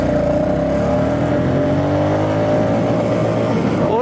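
A Royal Enfield Classic 350 motorcycle pulling away in first gear on a fairly empty road, its engine note rising steadily and loudly as it accelerates, with no talk.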